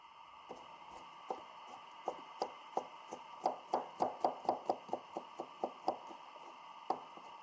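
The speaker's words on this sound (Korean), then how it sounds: "당근 1개를 손질한 후 채 썰어 놓습니다" A knife slices one small carrot into thin julienne strips on a board, making a close series of crisp, evenly spaced taps that quicken into a rapid run midway, then slow again, with no voices.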